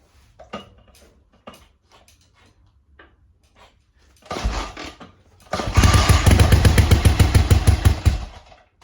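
A BSA Rocket Three A75R Mk.1 motorcycle engine with an erratic running fault, firing on only one cylinder: a few isolated ticks and pops, a short burst, then a loud, rough, uneven chugging idle close by.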